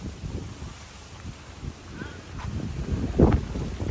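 Gusty wind buffets the microphone in low, uneven rumbles that swell and fade, strongest toward the end, with faint voices in the background.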